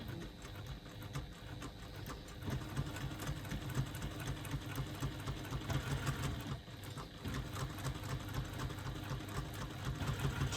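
A domestic sewing machine runs steadily, stitching a wiggly line across a quilt with a long stitch length, its needle chattering in a continuous, even mechanical whir at close range.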